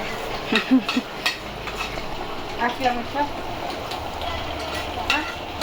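A tempering of cashews, butter, ghee and curry leaves sizzles for chicken fry at a festival cooking, a steady frying hiss broken by bursts of stirring and clanks of a utensil against the pan.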